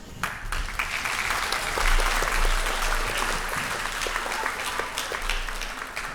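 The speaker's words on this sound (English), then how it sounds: "Can we give them one more round of applause?" A crowd applauds after a beginner band performance at an elementary school band day, steady dense clapping from many hands, swelling around the middle and holding on at a moderate level.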